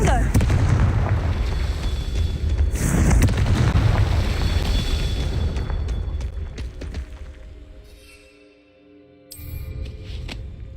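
A Confringo fire spell detonates in the Hogwarts Legacy video game, heavy booming blasts with rumbling decay, followed by quieter game sounds and a final burst; a voice calls out the spell.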